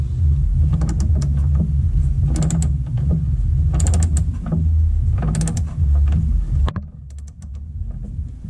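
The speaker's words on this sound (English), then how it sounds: "Let's torque these bad boys down." Torque wrench ratchets as wheel nuts are tightened to 220 foot-pounds, repeated close metallic clicking bursts in a steady rhythm over a low background hum, ending with a quieter pause.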